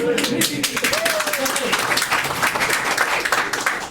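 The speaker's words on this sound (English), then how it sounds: "If you're applauding now, it's going to be a good night" Audience applause and clapping fill a goth music night just before a guitarist starts playing, steady and fairly loud throughout with a speaking voice over it.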